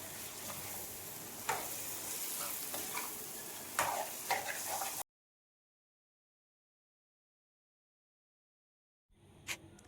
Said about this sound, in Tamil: பத்துலேருந்து 15 நிமிஷம் இதை நல்லா டீப் ஃப்ரை பண்ணியாச்சு, நல்லா வதக்கியாச்சு.